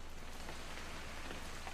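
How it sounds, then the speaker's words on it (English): Steady rain falling in the What Remains of Edith Finch video game, a soft continuous hiss of drops at moderate level with no speech. "It's gonna rain the whole weekend,"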